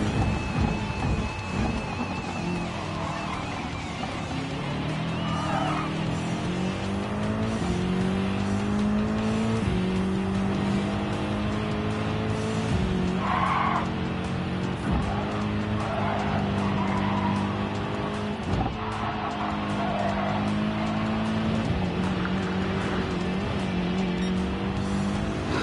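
Race car engine in Gran Turismo pushing through a fast lap on a drying track, a steady loud drone rising and falling through gear shifts, with tire squeal and occasional rumbles, no talking.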